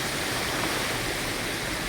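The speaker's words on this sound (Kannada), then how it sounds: "ಅಂಥ ಜಲ ಪ್ರಳಯವೇ ಆಗಿದೆ ಇಲ್ಲಿ" Heavy floodwater rushes steadily after days of intense rain on farmland, a dense, continuous roar with no pauses, close and loud throughout.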